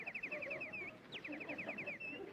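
A small songbird, a Canadian crested warbler, singing outdoors: two quick trilled phrases of rapid repeated high notes, each ending in a longer slurred note, fairly faint over a soft background hiss.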